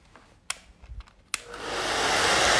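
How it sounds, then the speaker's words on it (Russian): A couple of sharp clicks, then a hair dryer switches on and blows with a steady, rising rush of air close by. "Берете самый обыкновенный фен"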